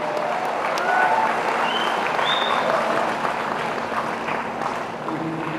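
Dense, sustained applause from a large audience at the inauguration of a folk music cultural festival in Namsai, Arunachal Pradesh, loud and steady throughout before easing slightly near the end.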